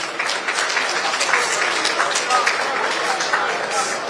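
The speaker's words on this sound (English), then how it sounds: "Shall we all clap for him, please?" Audience applause at a political opposition summit, following a presentation by Pat Utomi: a steady wash of many hands clapping together, held at an even level for the whole stretch with faint voices mixed in.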